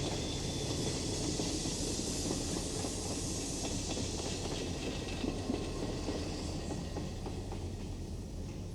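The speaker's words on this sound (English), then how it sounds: "the trains, threading their way precariously along the quay" A train rumbles and rattles steadily along the quay in Wexford town, Ireland, on the Dublin to Rosslare line, a continuous low clatter with hiss, moderately distant and fairly faint, with no talking.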